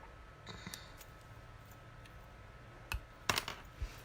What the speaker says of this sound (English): So make a little snip down the middle.